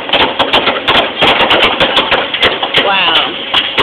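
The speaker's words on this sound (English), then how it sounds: "the sound you hear is hard-working volunteers building somebody's house." Volunteers building a house for Habitat for Humanity, with rapid, irregular hammer strikes and construction clatter close by, busy and continuous throughout.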